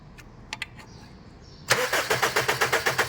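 A Honda Civic FD with a misfiring, shaking engine: a few faint clicks, then the starter cranks with a rapid, steady rhythmic churning that carries on close and fairly loud, with no talking.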